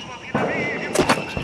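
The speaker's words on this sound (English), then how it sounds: "Mortars." Mortar rounds land in the military shooter game Six Days in Fallujah: a few sharp booming impacts in quick succession, heard under a player's voice.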